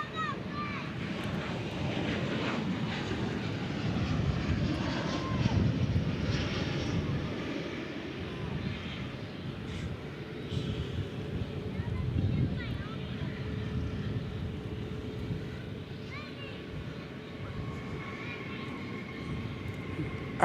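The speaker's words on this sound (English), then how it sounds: "Nice, KLM 747. You don't see those anymore." A KLM Boeing 747 airliner moves at DFW International Airport, heard as a broad, distant roaring rumble that swells and fades. Wind buffets the microphone and people talk over it.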